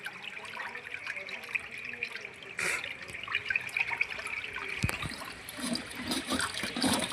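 Water gushes steadily from pipes flooding a flat, a close, continuous rushing and splashing with a brief sharp knock partway through.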